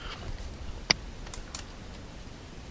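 A few faint, sparse keystrokes tap on a computer keyboard, one click crisper than the rest, in an otherwise quiet room.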